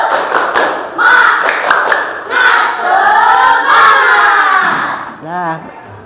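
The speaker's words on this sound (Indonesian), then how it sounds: "marilah kita tepuk semangat" Schoolchildren in a classroom perform a rhythmic clapping cheer (tepuk semangat), loud sharp claps in bursts mixed with shouted chanting voices, ending in a sung note.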